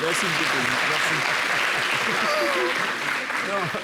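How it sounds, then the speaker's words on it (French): Crowd applause at a gathering on a television program, sustained dense clapping that carries steadily under talk and voices throughout, loud and close, easing slightly near the end. "Applaudissez pour lui."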